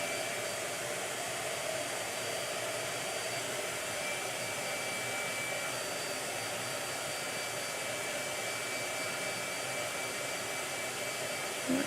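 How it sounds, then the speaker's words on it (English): A blow dryer runs continuously at a steady, even whoosh while drying a watercolor painting, with no talking. "that is why he uses the blow dryer."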